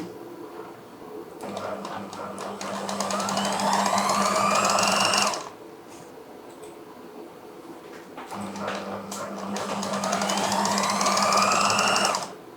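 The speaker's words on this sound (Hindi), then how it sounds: "इसकी एक साइड पे आप सिलाई लगाएं" A sewing machine stitches a kurta seam in two long runs, its motor whining and climbing in speed through each run, with a brief quiet gap between them.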